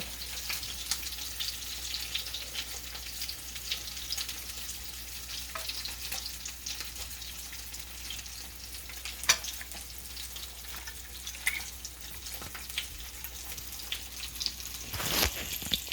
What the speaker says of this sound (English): fry it in olive oil